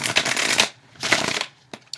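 Tarot cards being shuffled in two quick riffling bursts, each about half a second, close and crisp, followed by a couple of soft taps as the deck settles.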